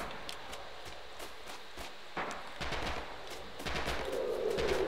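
Machine gun fire in the World War II shooter Red Orchestra 2 rattles in short bursts and scattered shots at middling distance, with the battle noise growing louder toward the end.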